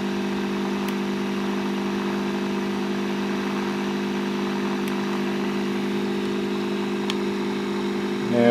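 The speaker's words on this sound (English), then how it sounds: "So I'll just do an RPM test on our rotor now." A lens-assisted generator rotor spins, giving a steady mechanical hum with strong sustained tones that stays even and fairly loud, with a few faint ticks and a slight swell right at the end.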